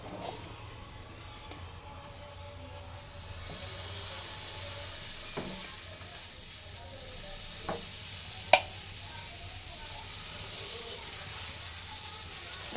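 Dosa batter sizzles on a hot pan in a home kitchen, a faint steady hiss with a few sharp taps and clinks over it.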